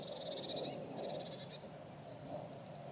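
Birds chirp and sing outside a floating home with a bird feeder on board: short, high, bright calls in a few scattered bursts over a steady low background hum, moderately distant, with no talking.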